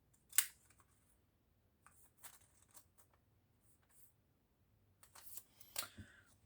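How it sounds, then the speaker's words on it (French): Scissors snip craft material for a shaker star embellishment in a few sparse, crisp cuts close by, separated by quiet pauses, with rustling of the material between cuts and no speech. "Ou alors, je le coupe pour faire plus petit."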